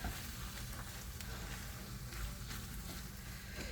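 Corn is stirred into sour cream in a bowl, giving a soft, close, wet squelching and scraping with small clicks throughout, quiet and without talk.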